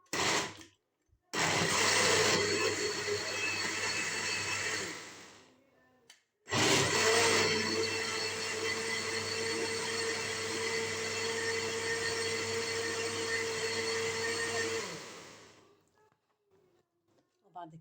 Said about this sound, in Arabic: هضربها بقى في الخلاط كده زي ما انتم شايفين.